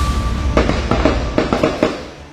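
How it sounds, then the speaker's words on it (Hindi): Repeated sharp gunshot cracks echoing across an area during a militant encounter in Kashmir, about eight reports in quick irregular bursts over a rumbling background. "लगातार गोलियों की गनगरज जो है वो इस पूरे इलाके में इस समय भी गूंज रही है।"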